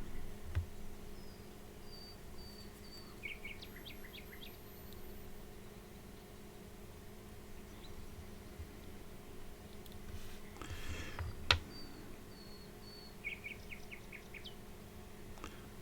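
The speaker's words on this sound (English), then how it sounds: "Some of those birds really sound like a sad dog." Birds call outdoors in short sparse chirps and trilled phrases, faint and distant over a quiet steady background hum and low rumble, with a couple of soft knocks nearby.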